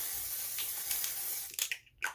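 Dior Airflash primer sprayed from an aerosol can during a makeup routine: a steady hiss runs for about a second and a half, then two short separate bursts follow, close and fairly loud, with no talking.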